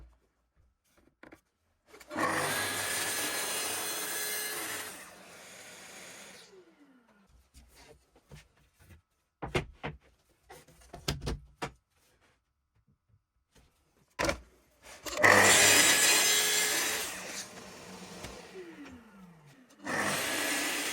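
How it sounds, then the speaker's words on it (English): A saw cuts bevels on the ends of a wooden piece in two loud, sustained bursts of whining, rasping noise, each spinning down and followed by scattered clunks and taps of handling between the cuts. "I'm cutting the bevel on the ends to the angle we want"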